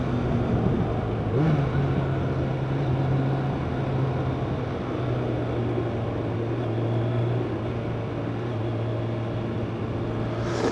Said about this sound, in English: Okay, well the engine seems to be going good.